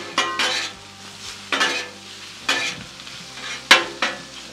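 Flank steak sears in a pan for Mongolian beef, with a near, rushing sizzle that surges in several bursts as the pieces are moved, alongside occasional clinks of utensils.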